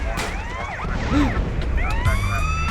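Several police sirens wail and yelp over a busy backdrop of engine rumble and game effects in GTA San Andreas, overlapping and shifting throughout.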